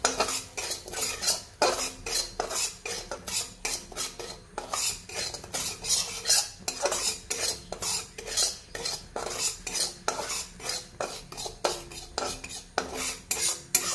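Salt dry-roasting in a pan for an Assamese dish, stirred continuously with a metal spoon that scrapes and clinks against the pan in a steady rapid rhythm, close and fairly loud, with no talk.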